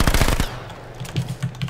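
Gunfire in the H1Z1 battle royale game: a rapid close automatic burst of about half a dozen loud shots, then softer, scattered shots further off.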